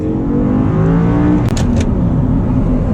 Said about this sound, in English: Let's do a little acceleration here with the Audi R8.